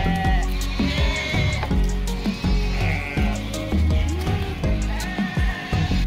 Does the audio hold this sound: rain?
no